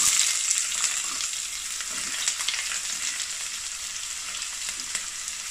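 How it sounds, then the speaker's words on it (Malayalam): Cumin, fennel seeds and sliced onion frying in hot coconut oil in a pan, a loud, continuous close sizzle with faint stirring scrapes and no voices. "നമ്മുടെ വെളിച്ചെണ്ണ ചൂടായിട്ടുണ്ട്, അതിലേക്ക് നമ്മൾ കരുതി വച്ചിരിക്കുന്ന ജീരകവും പെരുംജീരകവും ഇട്ട് കൊടുക്കാം"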